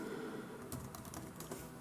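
Someone types a web address on a computer keyboard, giving a short burst of soft, quick key clicks under a faint background hum.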